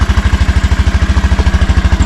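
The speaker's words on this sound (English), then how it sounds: "While riding, I hear the intake more than anything because this does have a Chimera intake on it." A tiny motorcycle fitted with a Chimera intake, heard while riding: a loud, steady low thumping pulse with a rapid even rhythm and a whooshing intake under it, close up.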